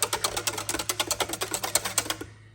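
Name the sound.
whisking chocolate into ice cream base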